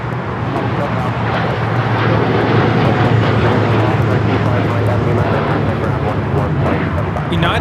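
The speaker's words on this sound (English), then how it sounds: "United 198 taking off to Shanghai on the 787-9 Dreamliner." A United Boeing 787-9 Dreamliner takes off at LAX, its jet engines giving a loud, steady broadband roar that holds for the whole stretch, with talk faintly under it.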